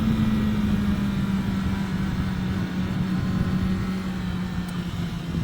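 A 2024 Kawasaki Ninja ZX10R motorcycle rides on a road with a steady, smooth engine drone that holds an even pitch, slightly sagging near the end, mixed with constant wind rush.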